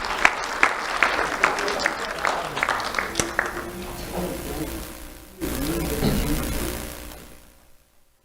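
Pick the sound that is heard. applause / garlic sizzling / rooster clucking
applause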